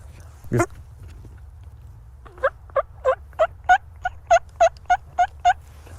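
A turkey call imitates a sleepy wild turkey hen yelping on the roost. After one short call comes a series of about eleven soft, evenly spaced yelps, close and subdued, with no talking during the sequence.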